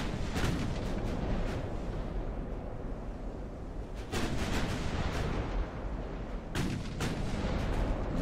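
Naval guns fire in Ultimate Admiral: Dreadnoughts during a 1942 Savo Island battle, with sharp booming salvos at irregular intervals over a constant low rumbling bed, fairly quiet and distant, without voices.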